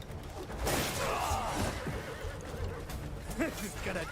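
A horse whinnies loudly in the action game Crimson Desert, a rising, wavering neigh up close amid busy game noise and combat sounds, with a second shorter whinny near the end and a voice talking over parts of it.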